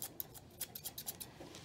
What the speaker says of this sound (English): And then I'm going to use my scissors and do some back combing.